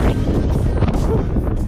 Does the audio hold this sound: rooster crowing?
no